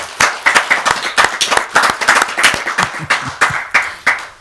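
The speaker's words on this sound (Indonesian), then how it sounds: "yuk tepuk tangan dulu buat Kiai Haji Imaduddin Uthman." Steady applause from a crowd, brisk rhythmic clapping that stays loud and even throughout with no talking over it.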